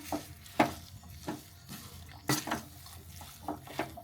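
Stirring samosa potato filling with lemon juice, sugar and garam masala in a pan: soft scraping and irregular clacks of a spoon, with a few sharper knocks, fairly quiet and without talk.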